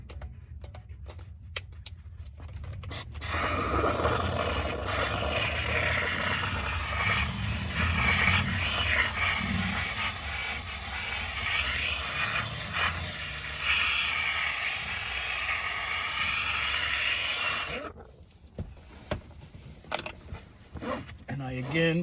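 A continuous hissing steam rush from a Harbor Freight handheld steamer runs loudly for about fifteen seconds, bracketed by ticking clicks and faint background noise before and after.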